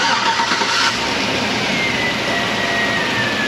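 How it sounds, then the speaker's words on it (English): A 5.3 litre V8 in a 2002-2006 Chevrolet Tahoe cranks briefly and then settles into a steady idle, loud and close, with no talking. "beginning engine restarting sequence now"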